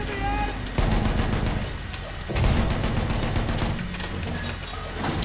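Battlefield 1 machine gun fire, rapid sustained bursts with heavy thumps, close and loud, with a voice talking over the battle.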